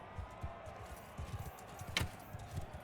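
Horse hooves in the video game Mount & Blade II, scattered soft hoof beats at an uneven pace, faint, with one brief sharp hit partway through.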